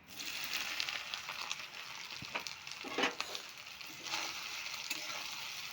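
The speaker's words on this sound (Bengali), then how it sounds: "সোয়াবিনটা ভাজি লাইমু।" Soybean chunks frying in oil for a soybean curry, a soft continuous sizzle broken by a few stirring scrapes, heard close but at a low volume.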